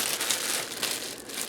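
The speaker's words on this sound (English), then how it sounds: "I'm just going to put this in a plastic bag" A plastic bag crinkles steadily as folded rough puff pastry dough is slipped inside, a close, continuous rustling with no voices.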